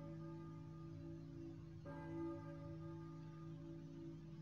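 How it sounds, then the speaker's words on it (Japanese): A church bell tolls in the Silent Hill video game, one sustained ringing tone that fades, then a second strike partway through that swells and lingers, with no voices over it. "鐘の音、教会の鐘か。 一体誰が鳴らしているんだ。"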